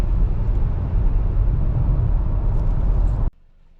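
A 2015 Toyota Highlander XLE with over 100,000 miles accelerating hard from 0 to 60, a loud, steady engine and road roar heard from inside that cuts off abruptly at the end.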